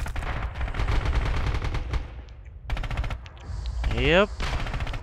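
An MG42 machine gun fires in the Red Orchestra 2 video game: several long, rapid bursts of close, loud fire with short pauses between, and a voice briefly speaks.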